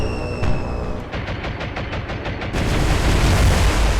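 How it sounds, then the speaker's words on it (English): Bombs fall on a ship in the naval video game War on the Sea: a quick run of about eight sharp rhythmic blasts, then a heavy, rumbling roar of explosions that swells and holds. "And bombs are away."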